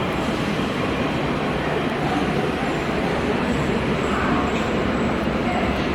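Daegu subway Line 1 train at Myeongdeok station, a steady loud rumble of rolling wheels and carriage noise with faint squeals, continuous throughout.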